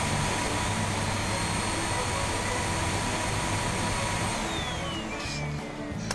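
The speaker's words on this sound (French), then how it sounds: "On va bien passer l'aspirateur." Toy vacuum cleaner running during doll play, a steady whirring drone holding evenly for several seconds before tapering off near the end.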